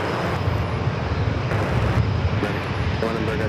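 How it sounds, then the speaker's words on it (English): A KLM Boeing 787-9 Dreamliner arriving at San Diego airport from Amsterdam makes a steady, moderate jet roar across the whole moment, with faint high chirps and a few short tonal sounds above it. "Let's head into our next heavy arrival, KLM 787-9 Dreamliner coming to from Amsterdam."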